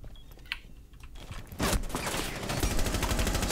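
Rainbow Six Siege gunfire: a few scattered shots, then a loud sustained burst of rapid automatic fire that keeps going to the end.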